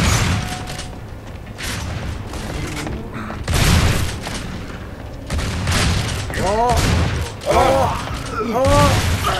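Gunfire in Gears of War 3 multiplayer: loud bursts and booming shots in several clusters, mixed with mechanical clanks, while a person talks over the action.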